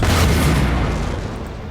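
Cannon artillery fire in an Empire Total War battle with the Knights of St John against Spanish forces: a loud, dense boom rolling straight into a rumbling, crackling barrage that stays heavy throughout and slowly fades.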